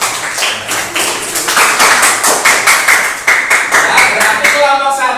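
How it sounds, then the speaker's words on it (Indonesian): Classroom applause from a group of students, a steady run of many hands clapping close by, with rhythmic bursts and a few voices mixed in. "Tepuk tangan boleh semua."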